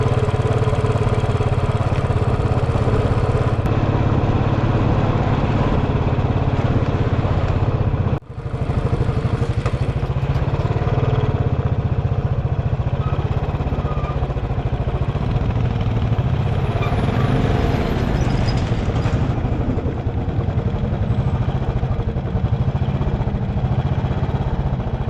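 A motorcycle engine drones loudly and steadily as the bike climbs a rough mountain road toward Pangong Lake near Leh, with a sharp brief dropout partway through before the continuous engine noise resumes.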